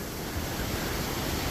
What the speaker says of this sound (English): Crossing the Uncompahgre River right now.